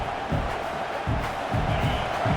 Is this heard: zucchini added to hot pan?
no